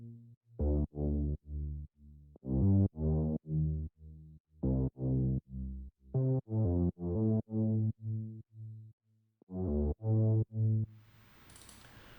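Isolated bass line from a track, pulled out of an electronic arpeggio: short, punchy synth bass notes in an irregular stop-start rhythm, loud and dry, ending with a brief noisy wash.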